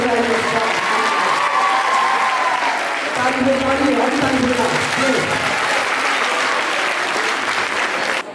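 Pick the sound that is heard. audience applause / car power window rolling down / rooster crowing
audience applause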